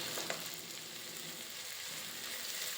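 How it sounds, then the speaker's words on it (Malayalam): Tomato and curry leaves sauté in a pan for a Malayalam chicken curry, giving a steady, close sizzle and crackle with no break and no talking. "ഇനി തക്കാളി ഒന്ന് വെന്ത് കിട്ടുന്നത് വരെ വഴറ്റാം"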